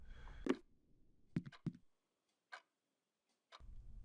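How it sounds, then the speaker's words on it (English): A clock in the horror video game IMSCARED sequel ticks in sparse, sharp clicks separated by near-silent pauses. "A clock displaying the real time."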